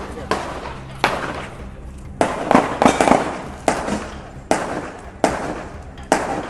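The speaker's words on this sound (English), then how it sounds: "It sounds like gunshots." Around eight sharp, loud bangs ring out at irregular intervals, each cracking out and fading quickly, with faint background noise between.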